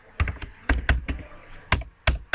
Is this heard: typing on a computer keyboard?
yes